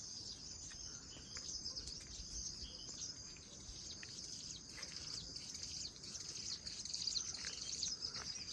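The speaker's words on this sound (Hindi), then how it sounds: "चिड़ियों की आवाज़ है।" Soft, high chirping from birds and insects carries steadily through a quiet village garden in Uttarakhand, faint and distant with no one speaking.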